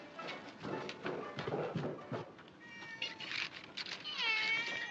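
A cat meows several times in a domestic interior, with rising and falling harmonic cries that grow clearer toward the end, set against faint room noise and rustling.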